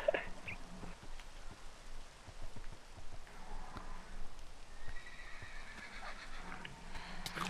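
In the video game Minecraft, a horse whinnies and neighs while its hooves clop along, repeated calls and soft steps set against a faint, rain-like background hiss, fairly quiet overall.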